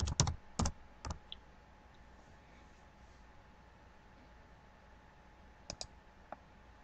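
Keystrokes on a computer keyboard, a quick burst of sharp clicks at the start, a couple more shortly after, then a long quiet stretch before a final pair of taps, close and crisp over a faint hum.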